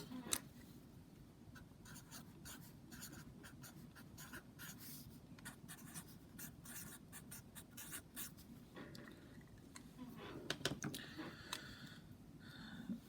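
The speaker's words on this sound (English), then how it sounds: "I'm going to write this out twice." Steady scratching of pen or pencil on paper as a math equation is written out by hand, a continuous close-up stream of short strokes with a few sharper taps, no voices.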